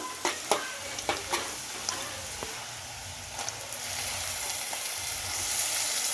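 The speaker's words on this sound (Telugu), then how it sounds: "ఇప్పుడైతే నేను టమాటా ముక్కలు వేస్తా" Small country tomato pieces sizzle steadily in a hot pan for a dried prawn curry, with a few sharp taps and scrapes early on, then a continuous soft frying hiss.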